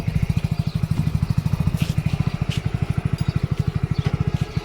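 A motorcycle carrying three riders runs at a steady low putter, its engine pulsing in an even rapid rhythm throughout, fairly close with faint background noise and no talk.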